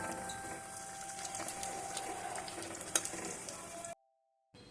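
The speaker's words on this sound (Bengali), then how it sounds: "গ্যাসের ফ্লেমটাকে মিডিয়ামে রেখে উল্টে পাল্টে ভেজে নেওয়া হচ্ছে" Drumstick flower fritters sizzle in hot oil over a medium gas flame, a steady close crackling with occasional sharper pops, ending in a brief silence.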